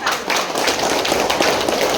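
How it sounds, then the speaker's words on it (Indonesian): A school audience claps continuously, a dense, loud patter of many hands with no break for the whole stretch. "Tepuk tangan dulu kita senang"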